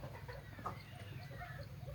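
Reeves's pheasants kept in a pen make faint, soft clucks and calls against a low steady background hum.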